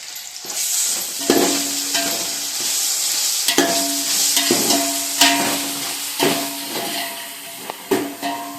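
Ginger garlic paste frying in a pan, stirred with a utensil that scrapes and knocks in repeated strokes over a steady loud sizzle and hiss.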